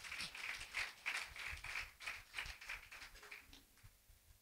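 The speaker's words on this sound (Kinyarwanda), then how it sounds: "Dukomere Imana amashyi mu izina rya Yesu" Rhythmic clapping from a church congregation applauding God during a service, quiet and somewhat distant, with steady regular beats that fade toward the end.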